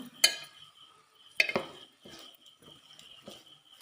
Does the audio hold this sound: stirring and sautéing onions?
yes